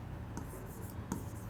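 Chalk or marker strokes on a board during a maths lesson on number systems, two short scratchy bursts standing out faintly over a quiet room.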